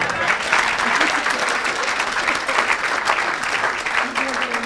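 A church congregation claps steadily and loudly through a French-language worship service, dense continuous applause with voices singing and calling out underneath.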